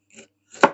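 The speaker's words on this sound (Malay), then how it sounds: "Tengok mak potong ya" A knife chops through fresh pineapple in a home kitchen while preparing a boiled pineapple drink, giving two close, crisp cutting strikes, the second louder and sharper, with a tiny tap at the end.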